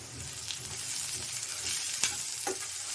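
Onions with salt sauté in a pan for kuzhi paniyaram, a continuous close sizzle with gentle stirring and a couple of brief utensil taps, no talking.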